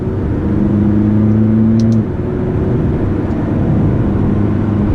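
A McLaren 12C supercar with a seven-speed dual-clutch gearbox cruises on the road, its engine giving a steady, loud droning hum with a brief shift in tone partway through.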